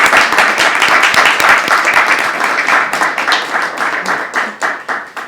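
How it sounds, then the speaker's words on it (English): An audience at a literary reading gives a loud round of applause, dense hand claps that stay strong then thin into scattered individual claps near the end. "Can we give her just one more round of applause?"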